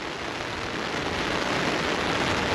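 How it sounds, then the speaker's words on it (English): Dense, steady hiss of heavy rain pouring down in strong wind at Haulover Inlet, Florida, constant and close with no letup, wind-like broadband roar throughout. "And there's a lot of rain."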